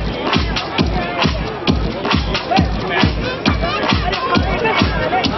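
Dense crowd applause at a live evening music show, steady rhythmic clapping throughout, loud and close with crowd hubbub blended in.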